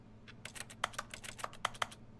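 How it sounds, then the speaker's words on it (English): Rapid keyboard-typing sounds triggered by touching an object in the video game The Stanley Parable, a quick irregular burst of about a dozen crisp clicks, close and distinct, with no talking. "Every time I touch it, it sounds like I'm typing."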